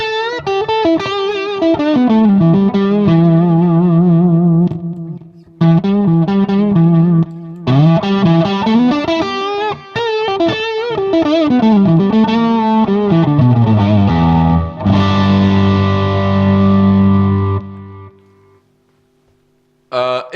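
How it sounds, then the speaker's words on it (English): Electric guitar through a Muzizy overdrive pedal with every knob at twelve o'clock, playing a sustained, lightly driven melodic line with bends and slides, then ringing chords that fade out near the end. "I have everything set to 12 on the Muzizy Overdrive and see what it sounds like."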